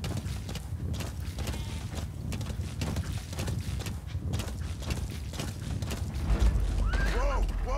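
Horse hooves clip-clopping steadily with creaking tack while riding in the video game Metal Gear Solid 5, a continuous near rhythm over a dense game soundscape with no talking.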